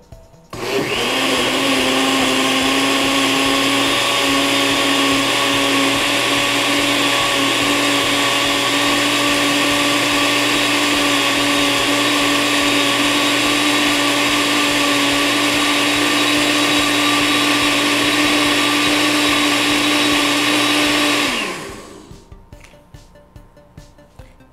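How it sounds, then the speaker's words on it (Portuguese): A blender mixing cornmeal cake batter runs loud and steady for about twenty seconds with a constant whirring motor hum, then winds down and stops. "E se você não tem um liquidificador potente"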